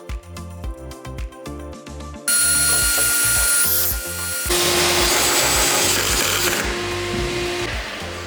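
Power driver running screws into a steel bench-in-a-box shelf bracket and crossbar support, several short mechanical bursts at first, then longer loud whirring runs close by with no talk.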